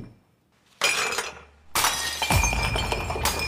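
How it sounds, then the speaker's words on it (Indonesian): A drinking glass is smashed and shatters, a loud crash followed by a second burst of breaking glass and scattered tinkling fragments, sharp and close with no talking. "bahkan membanting gelas"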